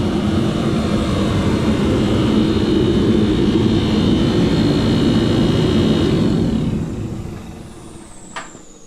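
A noisy heater roars loud and steady in a garage, a broad rushing drone that runs for several seconds and then cuts off and fades to a quiet room.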